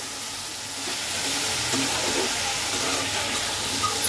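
Kachki fish curry with turmeric and coriander powder sizzles steadily in a pan over low heat, a dense continuous frying hiss close by with faint stirring, no voices.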